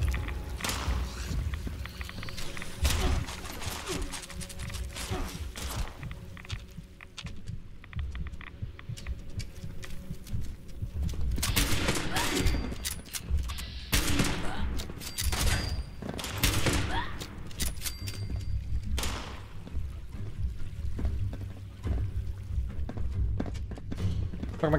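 Gunfire aimed at the player in the video game Fallout 76, rapid bursts of shots crackling over a steady low rumble and ambient hum, fairly loud and continuous with clusters of sharper reports throughout.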